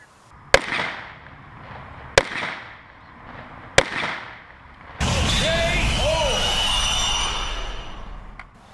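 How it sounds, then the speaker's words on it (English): A KelTec PMR-30 pistol is fired at small red plastic solo cups outdoors, giving three sharp, evenly spaced gunshots with short tails, followed by a steady broadband rush of noise with faint chirps. "shooting the KelTec PMR-30. And what he's shooting is little mini red solo cups"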